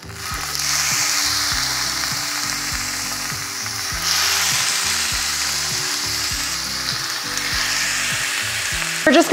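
Food searing in a pot for a one-pot weeknight dinner gives a steady, loud sizzle throughout, with faint rhythmic clicks and scraping beneath and a brief louder flare partway through; no one speaks.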